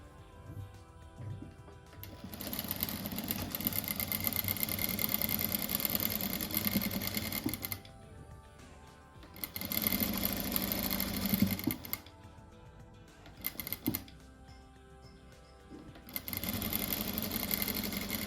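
Sewing machine stitching a seam along a marked line on a handmade rug, running in three long steady bursts with brief pauses between, close and fairly loud, no talk.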